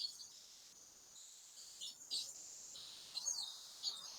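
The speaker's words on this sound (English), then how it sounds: "I'm listening to the birds outside in the trees." Birds sing faintly in trees outside on a cloudy morning after rain, with scattered soft chirps and calls spread across a quiet background.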